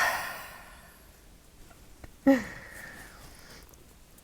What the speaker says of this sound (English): Stick your tongue out with a huge exhale.